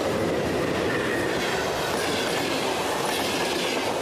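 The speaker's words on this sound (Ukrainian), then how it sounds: "постійно доводиться стежити за пасажирськими потягами, які курсують по сусідній колії. Поїзд!" A passenger train speeds past on the neighbouring track, a loud, continuous roar of wheels with clickety-clack rhythm and some squeal, close and unbroken for the whole stretch without speech.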